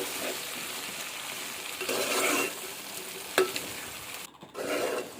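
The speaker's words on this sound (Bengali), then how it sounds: "তো এখন ভালো করে নেড়ে চেড়ে সিদ্ধ করতে হবে যেন নিচের দিয়ে লেগে না যায়।" A spoon stirs food simmering in a pot, scraping and swishing in a few separate bursts over a low bubbling hiss, close by with no talking.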